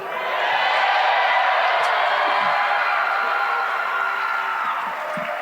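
Live audience at a comedy podcast taping cheering and whooping, a loud, continuous wash of crowd noise that holds steady for several seconds before easing slightly.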